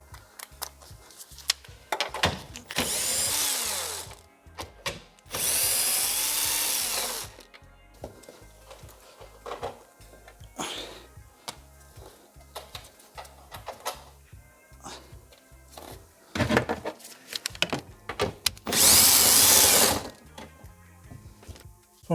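A power tool fitted with a deep 10mm socket removes trim covers on a BMW X4, giving three loud, steady whirring bursts separated by clicks and handling noises close by.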